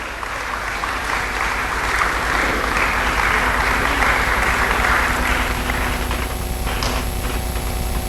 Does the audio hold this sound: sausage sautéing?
no